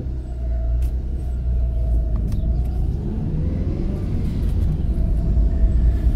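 A cheap used car drives along the road with a steady, close engine and tyre rumble that holds its level throughout, with no talking.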